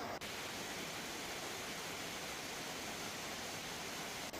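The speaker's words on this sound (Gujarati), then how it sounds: "ધોધમાર વરસાદ વરસી રહ્યો છે" Heavy monsoon rain pouring down in Dahod, Gujarat, a dense, even wash of broadband hiss at moderate level, steady and unbroken with no voices.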